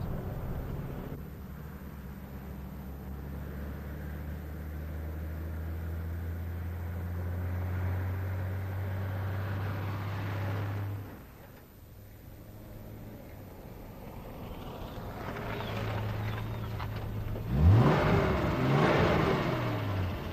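A 1971 car leaving the motorway, its engine holding a steady low drone that dips briefly around the midpoint, then builds again and ends with a louder rev.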